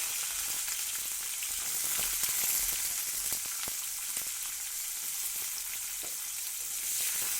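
Flat beans are dropped into hot tempered oil for a drumstick-flower chorchori, giving a steady, close, loud sizzling fry with a few crackles and stirring scrapes throughout.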